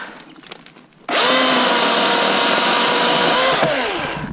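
A Milwaukee M18 battery chainsaw on a 5 amp battery starts abruptly and cuts fallen wood at a loud high-pitched whine for a few seconds, then winds down near the end.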